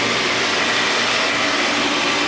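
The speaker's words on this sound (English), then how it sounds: "So, let's kick on the pump. Over here. Gotta kick on the vacuum too, so bam, and bam." A pool pump and pool vacuum run together with a loud, steady broadband roar and whine, continuous and close, with no voices over it.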